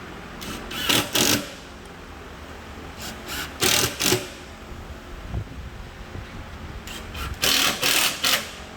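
Power screwdriver driving screws into a room partition panel during assembly, in several separate short whirring bursts of about a second each, in pairs, fairly close with a quiet room between.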